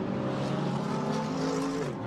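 A Porsche GT race car, the number 54 Dynamic Motorsport entry, is pushed hard at Paul Ricard during GT World Challenge Europe 2020 qualifying, its engine a loud, continuous high-revving roar that shifts pitch steadily.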